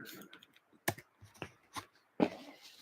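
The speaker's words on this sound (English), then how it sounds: "I should be able to find it just by typing Triz" Typing on a computer keyboard while searching for a term, heard as a few sharp, separated key clicks at moderate level with quiet gaps between them, no talking.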